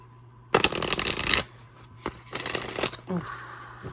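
Cards are riffle-shuffled in two quick bursts of crisp fluttering, with a softer shuffle and light handling sounds afterward, close to the listener.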